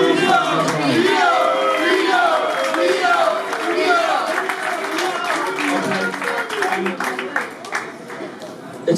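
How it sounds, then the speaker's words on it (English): An audience at a football club's end-of-season awards evening gives a round of applause and cheers, loud clapping mixed with shouts and a speaking voice over it, trailing off toward the end. "So the final round of applause as well."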